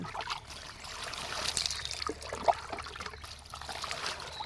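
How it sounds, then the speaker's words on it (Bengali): Water from a garden tap poured over the body during an outdoor bath, soft splashing and trickling in uneven pours with one brief louder splash midway. "আগে একটু গায়ে জল দিই"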